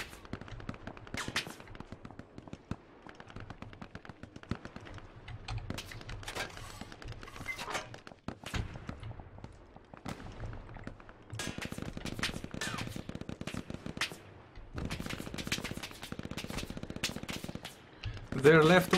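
Gunfire in the video game Hell Let Loose: rapid rifle and machine-gun shots crackling in bursts, some close and some distant, with dense stretches of firing and voices talking at points.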